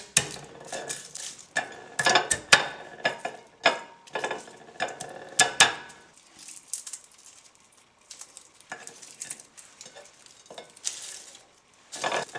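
A knife blade smacks garlic cloves on a board while making a simple marinara sauce. A run of sharp, close thumps and knocks comes in uneven bursts, then quieter scattered taps follow.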